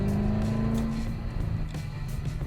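A Corvette ZR1 at full throttle, its engine holding a loud, steady low drone with a strained, buzzing tone, heard close and continuous without speech.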